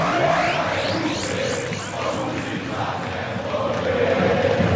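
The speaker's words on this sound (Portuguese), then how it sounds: "Torcida do Guarani sobe o som, sente o momento positivo do Brinco de Ouro" Guarani fans fill the Brinco de Ouro stadium during a Série C football match with a dense, continuous roar of chanting and cheering that swells and ebbs, heard from within the stands.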